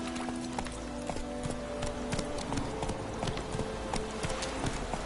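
Hooves of Roach, a horse in a PS4 video game, clip-clop in a steady galloping rhythm, loud and close over a busy game soundscape with no talking.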